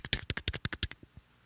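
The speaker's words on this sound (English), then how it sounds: "Does that sound like a keyboard?" Rapid computer keyboard typing gives a quick run of about a dozen crisp, evenly spaced key clicks that then trails off into a couple of softer taps near the mic, with no talking.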